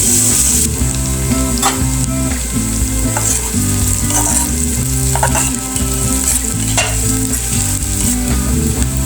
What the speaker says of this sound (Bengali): এবার পেঁয়াজ আর কাঁচামরিচটা আমি ভালো করে ভেজে